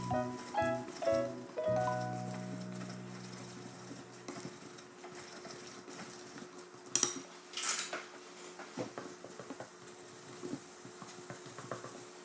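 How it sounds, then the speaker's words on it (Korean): A utensil scrapes and taps against a pan as beaten eggs are stirred into scrambled eggs with vegetables, with a few louder clinks and a soft sizzle underneath. "풀어놓은 계란물을 넣고 스크램블 형식으로 잘 저어주겠습니다"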